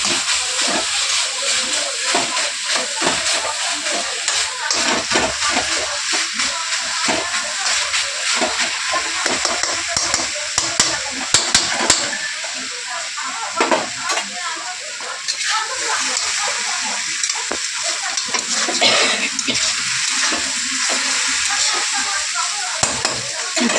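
Boiled potatoes are mashed and stirred in a pan with turmeric, giving close, irregular scraping and squishing over a steady sizzling hiss.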